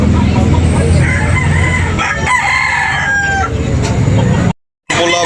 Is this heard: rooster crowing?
yes